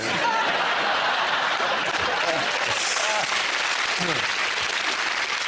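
Studio audience on a British comedy panel show's Christmas special applauding steadily throughout, a dense, even wash of clapping with a few laughs and voices mixed in.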